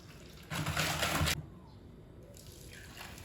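Milk poured into a sugar and egg yolk mixture for a crème anglaise, a short close splashing pour of about a second with a quieter trickle afterward.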